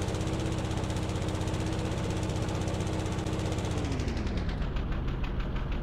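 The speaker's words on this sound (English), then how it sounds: "just chilling with the lawnmower" Loud, steady video game lawnmower engine drone with a rapid knocking rhythm, its pitch dropping slightly near the end, continuous and up close.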